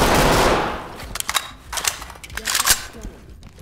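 Gunfire in the tactical shooter Ready Or Not: a loud, close rattle of rapid shots opens, then separate sharp bursts follow in quick succession.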